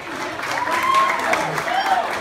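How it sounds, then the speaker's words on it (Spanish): Guests applaud at a quinceañera celebration, a moderate, continuous patter of clapping running under a host's amplified voice and music. "fuerte el aplauso para nuestra princesa de esta noche"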